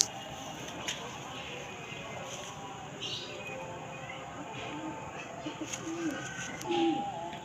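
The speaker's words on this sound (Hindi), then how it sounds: "ये जी काली दुम वाला कबूतर है माशाल्लाह।" Sialkoti pigeons, one with a black tail, coo softly amid a busy rooftop loft in Rawalpindi, the low murmuring calls faint and steady with a few brighter chirps near the end.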